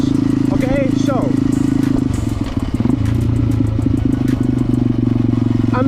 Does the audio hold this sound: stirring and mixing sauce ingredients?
no